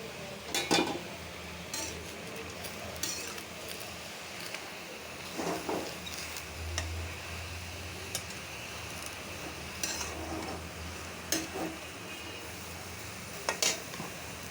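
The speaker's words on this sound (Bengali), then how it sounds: "শাক রান্না করব, তাই পেঁয়াজ কাঁচামরিচ দিয়ে দিলাম।" Onion and green chili cooking in a pot, with intermittent metal clinks and scrapes of a spoon against the pot over a low sizzle, fairly close and with no talking.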